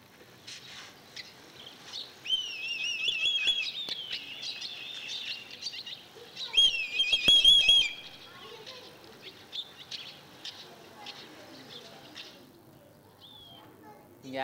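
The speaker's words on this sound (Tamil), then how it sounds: "இது வந்து செம்பருந்து" A brahminy kite's call, a kind of kite, played in a lecture hall: thin, high whistled cries in two short bursts, fairly faint, over a quiet room murmur.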